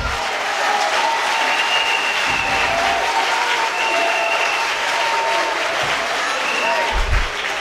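A church congregation applauds steadily and loudly during a worship service, the dense clapping continuing without a break for several seconds.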